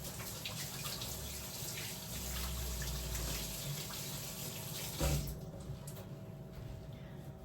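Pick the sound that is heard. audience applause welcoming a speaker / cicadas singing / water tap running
water tap running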